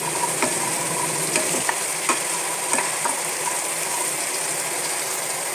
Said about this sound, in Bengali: এবার এর মধ্যে আমি ভেজে রাখা আলুগুলোকে দিয়ে ভালোভাবে মিশিয়ে নেড়ে নেব